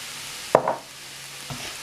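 A spoon stirs creamy garlic chicken with Dijon mustard in a pan, giving a sharp scrape followed by a soft sizzle, then a second lighter scrape over a quiet simmering background.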